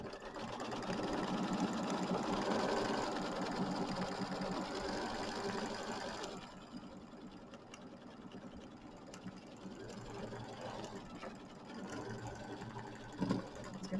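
An embroidery machine tacks down flex foam on a Kimberbell mini quilt, a continuous close mechanical stitching hum that is louder at first and then settles to a softer, steady run.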